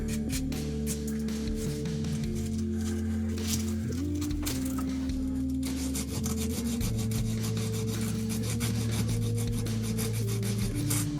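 Folded sandpaper rubbed by hand along a Bowie knife blade, a steady rasping scrape running continuously and close up, with a low background hum underneath and no talking.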